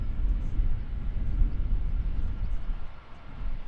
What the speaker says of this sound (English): So aside from that DHL freighter, I can see two Wizz Airs and a Ryanair all taxiing out.